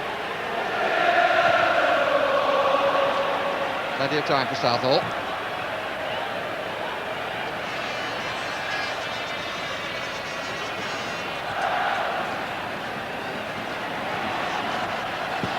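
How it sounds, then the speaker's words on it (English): A football crowd at a 1993 Wales versus Romania match keeps up a steady, distant roar of support, swelling briefly near the start, beneath a commentator's voice. "The crowd in good voice willing them forward."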